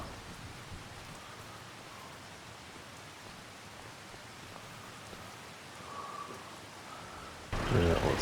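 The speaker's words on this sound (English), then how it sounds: "I guess it's the weather. Thunder's rolling in." Steady rain hisses over farmland in Farming Simulator 25 as a storm rolls in, an even wash of noise that swells slightly near the end before a sudden louder burst closes it.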